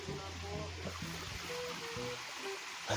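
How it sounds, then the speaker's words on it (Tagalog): River water rushes and babbles steadily through rural farmland, a continuous broadband wash with people talking over it nearby. "narinig ko na yung lagas-gas ng ilog"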